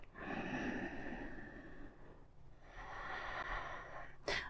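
Slow, deep breathing during a yoga session, one long audible inhale followed by an equally long exhale, close and soft with a brief pause between them.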